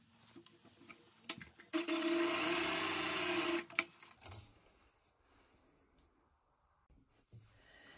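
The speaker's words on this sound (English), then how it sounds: "I'm going to top stitch this down" A sewing machine top-stitches a fabric face mask lining in one short steady whirring run of about two seconds, with soft clicks and handling noises before and after.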